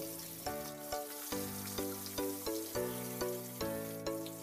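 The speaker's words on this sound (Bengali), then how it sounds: "নুন হলুদ মাখিয়ে রাখা মাছের মাথাগুলো তেলের মধ্যে এক এক করে ছেড়ে দিতে হবে।" Fish heads coated in salt and turmeric frying in hot oil, a steady close sizzle that swells in pulses as pieces are added, with no talking.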